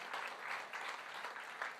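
A church congregation claps quietly in brief, faint pulsing bursts during a sermon.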